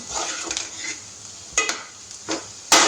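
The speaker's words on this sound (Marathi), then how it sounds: "आता 2 मिनटं आपल्याला ते व्यवस्थित परतून घ्यायचे" Spices for butter chicken sukka are being sautéed in a pan, giving a faint sizzle broken by several sharp metal clinks and scrapes of a utensil against the pan.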